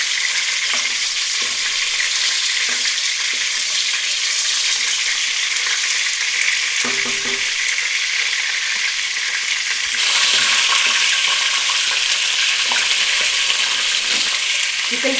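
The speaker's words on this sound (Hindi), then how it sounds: "हमें इनको गोल्डन फ्राई करना है।" Moong dal sizzles steadily in hot oil while frying until golden, a loud, continuous crackling hiss broken by occasional stirring scrapes and growing brighter near the end.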